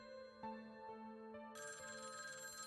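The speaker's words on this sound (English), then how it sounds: "Sure enough, an old rotary phone." An old rotary phone in the video game Tokyo Babel rings with a steady, bright electronic bell tone that swells into a louder, fuller ring partway through. It plays alone and is fairly faint, with no talking.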